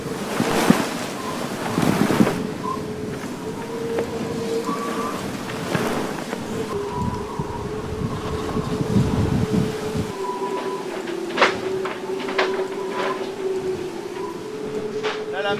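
Rough, well-formed ocean swell and strengthening wind around an Ultim racing trimaran during the Arkea Ultim Challenge, with steady broadband wash and gusts, plus faint intermittent tonal whines from the boat's rigging or systems.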